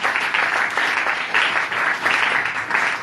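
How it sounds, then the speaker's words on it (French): Congregation applauding during a church service, a steady dense wash of many hands clapping together that swells in waves and holds throughout, fairly close and full. "Si on peut acclamer pour la gloire du Seigneur Jésus"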